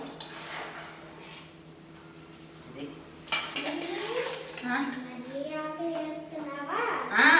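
Avakaya mango pickle being mixed by hand in a container, with oil added: clinking and scraping of utensil against the container, joined midway by louder, continuous voices talking over the mixing.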